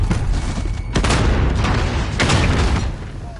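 A deep, loud grenade blast in a first-person shooter game, rumbling booms and crackling debris rolling continuously through the whole stretch.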